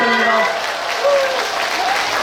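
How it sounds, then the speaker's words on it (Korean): Loud applause from an audience at a Buddha's Birthday lantern festival concert in Goyang fills the space right after a girl group's performance, sustained clapping with a faint tonal note and voices mixed in. "큰 박수"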